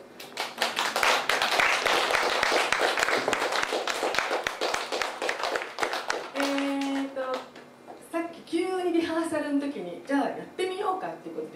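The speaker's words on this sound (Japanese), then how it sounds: "どうぞ皆さん拍手で。" An audience claps in a dense, lively burst at a harp concert in a café, the applause running strong for several seconds before fading as people begin talking.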